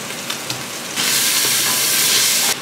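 Minced meat browning in oil and butter in a pan, a loud steady sizzle that surges up suddenly and holds before dropping back, no talk over it.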